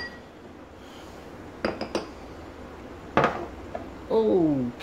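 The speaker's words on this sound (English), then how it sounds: "I'm just going to mix all my ingredients together" Seasoning ingredients mixed together in a bowl for beef summer sausage, a few sharp clinks and knocks of a utensil against the bowl over quiet room tone, followed by a brief voice.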